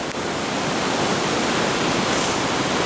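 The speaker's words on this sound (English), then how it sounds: "This is a pretty big waterfall." Big waterfall partly iced over in winter, roaring steadily and loudly up close as a dense, unbroken rush of falling water with no voices.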